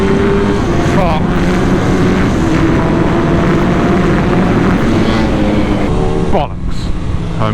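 A budget race motorbike engine drones loud and close, its pitch wavering and shuddering with a rough judder, a few rising revs breaking through the steady roar.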